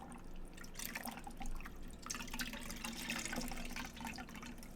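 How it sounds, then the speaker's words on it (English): Water dripping and trickling into a cleaning bucket in a quiet room, a steady soft patter of drops and light liquid splashes running throughout, fairly close and gentle, with no talking. "I did preemptively fill the cleaning bucket with water as well."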